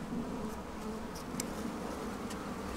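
Honey bees buzzing inside a beekeeping hive around a newly introduced queen and nurse bees, a soft steady drone with a few brief higher buzzes of individual bees passing near.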